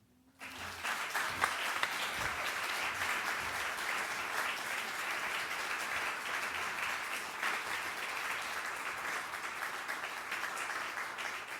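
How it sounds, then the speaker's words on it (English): Sustained applause from a graduation audience at a Leiden University law master's ceremony, steady dense clapping that starts abruptly and holds at full strength throughout, with no voices over it. "They're applauding for you."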